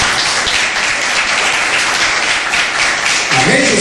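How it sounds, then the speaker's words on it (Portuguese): A church congregation applauding at a service, broad sustained clapping from many hands at close range, loud and even throughout, swelling slightly near the end. "Então aplauda Jesus de todo o coração."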